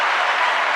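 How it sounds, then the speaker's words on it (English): A short burst of clapping among a small group recording a podcast, brisk and even across the moment, with no talk over it. "Clapping for Brendan since he ain't police"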